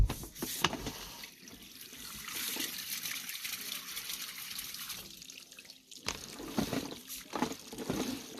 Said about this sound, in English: Someone just flushed on us